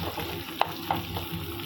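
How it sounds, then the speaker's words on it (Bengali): Onions frying in mustard oil in a wok crackle with a steady sizzle, and two sharp clinks from a spatula or utensil against the wok cut through it. No one speaks. "পেঁয়াজগুলো হালকা ভেজে নেব।"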